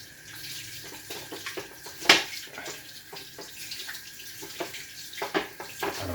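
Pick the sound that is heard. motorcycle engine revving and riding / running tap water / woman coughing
running tap water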